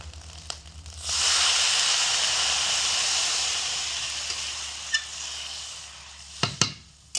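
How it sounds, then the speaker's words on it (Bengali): Water poured into frying parboiled rice for a vegetarian pilaf, bursting into a loud, close hiss of sizzle and steam that slowly fades, followed by a few light clinks, with no talking. "এবার আমি এর মধ্যে বন্ধুরা জল দিয়ে দেব"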